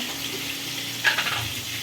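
Coriander and turmeric powder sizzling in hot oil in a home kitchen pan, a steady soft frying hiss with a brief louder crackle midway, close and alone.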